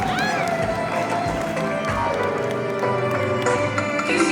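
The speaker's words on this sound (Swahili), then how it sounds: "Piga makofi mengi kwa Bwana" Wedding congregation clapping together in an even, continuous patter, with voices, cheering and background music mixed in under the clapping.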